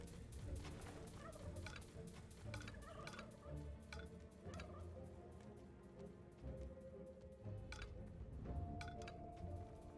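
Game chickens in Dungeons 3 gobble and cluck in a busy, overlapping flock, a continuous jumble of fowl calls with occasional clinks and clicks mixed in, fairly faint and without talking.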